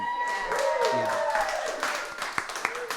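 Applause from an audience at an Americana concert in a lodge, greeting a band: steady clapping with scattered cheers sits under nearby talk and thins out into a few separate claps near the end.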